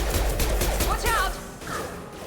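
Gunfire from weapons in the Mass Effect 2 video game, a quick burst of shots up close that then cuts off, mixed with game sound effects.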